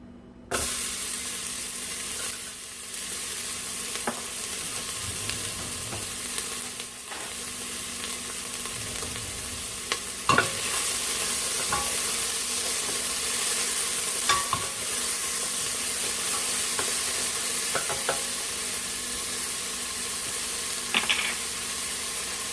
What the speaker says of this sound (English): I am going to add a little bit of cooking oil and start to saute my onions